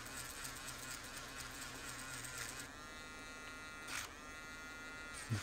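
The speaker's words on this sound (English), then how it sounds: "I'm gonna hold it down and kind of grind it down" A small electric rotary grinder buzzes steadily against the leftover part of an old iPhone 11 battery board, a thin high whine that dips in pitch under load partway through.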